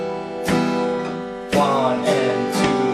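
Acoustic guitar strummed with upstrokes in a steady rhythm, several bright chord strums ringing out close and clear with no talking.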